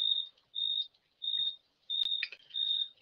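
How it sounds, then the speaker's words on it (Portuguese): A cricket chirps at night in steady high, shrill trills, five bursts with short pauses between them, fairly close and alone over quiet, with one faint soft click. "O grilo fiel, sempre."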